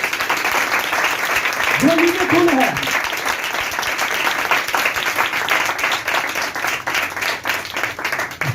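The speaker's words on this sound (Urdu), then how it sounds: "اب یسوع کے لیے زوردار تالیاں ہو جائیں" A church congregation gives loud, sustained applause, many hands clapping steadily throughout, with a voice calling out briefly over it near the start.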